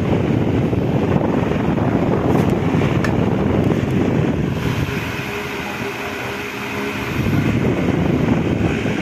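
Steady, loud rush of air blowing from an electric fan fills the whole stretch, dipping slightly midway before returning at full strength, with no voices.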